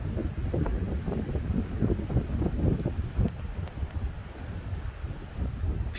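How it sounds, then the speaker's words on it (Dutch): Strong gusting wind in the Ardennes buffets the microphone with constant low rumbling and fluttering, loud and close throughout with no voices. "Oeh, wat een wind."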